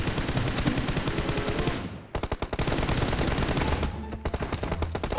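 Rapid automatic gunfire in a PUBG Mobile team deathmatch, loud bursts of close shots with a brief pause near the middle before another fast volley.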